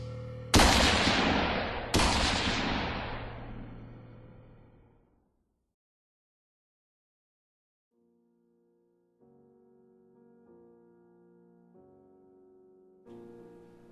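Two loud revolver gunshots crack in quick succession, each ringing out into a long echoing decay, followed by a quiet stretch and soft musical tones.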